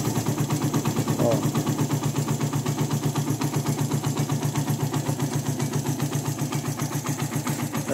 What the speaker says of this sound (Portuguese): O motor tá suave.